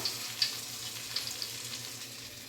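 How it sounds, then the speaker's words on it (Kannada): Urad dal vada batter shaped with a hole in the middle fries in hot oil with a soft, continuous crackling sizzle and a few sharper pops, steady and fairly quiet throughout. "ಎಣ್ಣೆ ಬಿಸಿಗಿಟ್ಟಿದ್ದೀವಿ ನೋಡ್ಬೋದು ಮಧ್ಯದಲ್ಲಿ ಸ್ವಲ್ಪ ಹೋಲ್ ಮಾಡಿ ಹಾಕೋಬೋದು"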